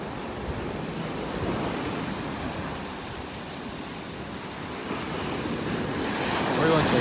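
Ocean surf breaking on a beach in North Naples, Florida, with the tide coming in: a steady broad wash of waves with gusty wind noise on the microphone, building louder near the end.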